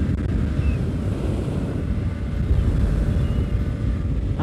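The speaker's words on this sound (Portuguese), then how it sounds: "Há um vento aqui muito forte" Strong wind buffeting the microphone during a Yamaha MT-07 motorcycle test ride: a continuous, loud, low roaring rush that stays fairly steady, with no talking.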